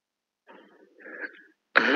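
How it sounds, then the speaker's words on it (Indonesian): A man clears his throat softly twice, short rough rasps in a quiet room, followed at the end by the start of a voice. "Muh berdehem lagi."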